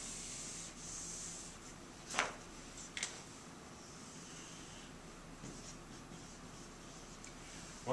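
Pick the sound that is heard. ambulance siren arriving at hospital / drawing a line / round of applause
drawing a line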